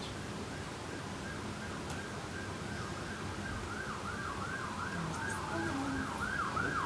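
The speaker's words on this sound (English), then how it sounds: "Yes, there's the siren." A wailing ambulance siren rises and falls repeatedly, distant at first and growing slightly louder over steady traffic rumble.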